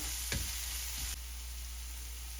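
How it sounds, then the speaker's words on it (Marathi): Masala for a prawn fry sizzles in oil in a pan, a constant close hiss with a couple of soft stirring scrapes early on. "तर मसाला चांगला भाजला गेला आहे आणि त्याला तेलही सुटत आहे प्रॉपर"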